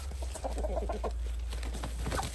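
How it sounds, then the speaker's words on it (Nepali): Local chickens kept on a home farm give a brief burst of clucking, moderately close, over a steady low background hum. "यहाँ हाम्रो बाबै चाहिँ कुखुरा पाल्नु हुँदैछ यो तरिका।"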